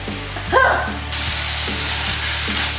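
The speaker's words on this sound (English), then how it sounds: "Now add the garlic and cook for 2 minutes." Garlic sizzles in a hot pan during shepherd's pie prep, a steady, fairly loud frying hiss with a brief stirring scrape near the start and the sizzle continuing evenly throughout.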